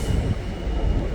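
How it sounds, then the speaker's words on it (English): A train runs past on the line at St Helens, a steady loud rumble of wheels and carriages that rolls on throughout without a break. "Just let that train go"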